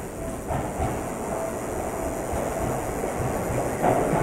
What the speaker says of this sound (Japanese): 列車到着です。 国分寺行きの到着です。